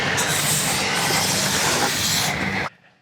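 Spray adhesive hissing from a can while attaching foam: a loud, continuous broadband spray for over two seconds, then stopping abruptly into quiet room tone.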